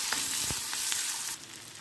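Chopped onions and a broken dried chili fry in leftover oil, giving a close, continuous sizzle with small pops and crackles throughout.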